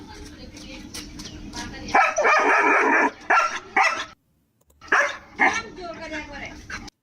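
A stressed puppy barks and yips in a series of sharp, loud, close bursts, with a short silent gap in the middle and people talking around it.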